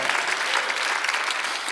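A church congregation at a Sunday worship service claps together in a brief, dense burst of applause, loud and steady throughout.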